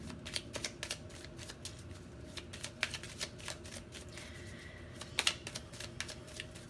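Tarot cards are shuffled up close at a soft level, a run of quick papery riffles and flicks with brief louder bursts, alone with no talk.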